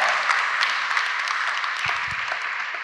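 A church congregation claps for Jesus Christ, a steady, fairly loud stream of hand claps with a few distinct sharper claps standing out near the end.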